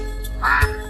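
A duck in an animated story gives a single clear, close quack that stands out against a quiet background.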